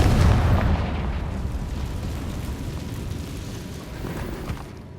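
Confringo fire spell detonating in the video game Hogwarts Legacy, a loud booming blast at the start that rolls into a fading rumble over several seconds.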